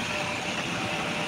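An LRT light rail train passes close by near Masjid Jamek and Dataran Merdeka as a steady, loud rumble with broad hiss, unbroken for the whole moment.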